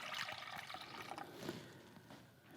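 Water pouring into a jerky marinade of Worcestershire and other sauces, a steady trickling splash for about two seconds with no talking.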